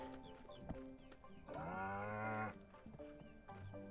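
A cow dropped onto a farm in the video game Staxel lets out a loud, sustained harmonic moo of about a second, set among lighter game sounds and clicks.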